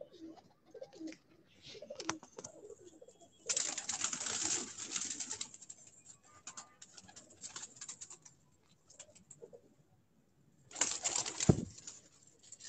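Pigeons coo softly in short bursts on a rooftop, with a couple of sudden louder rustling flurries like wings flapping nearby, and quiet gaps between.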